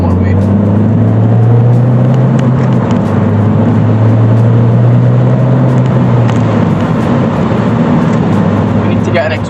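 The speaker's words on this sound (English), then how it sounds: "She's purring away best she can with the engine, but the exhaust is just woeful, absolutely woeful." A Ford Fiesta ST180 engine and exhaust drone steadily while accelerating on a motorway, a loud low rumble with shifting pitch and constant road and wind noise throughout.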